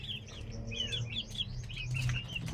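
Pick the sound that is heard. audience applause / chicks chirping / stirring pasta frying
chicks chirping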